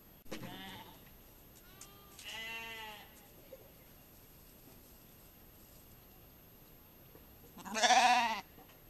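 Sheep bleat outdoors on a rural roadside: two moderate calls near the start, then a louder, closer drawn-out bleat near the end, over a quiet background with no talking.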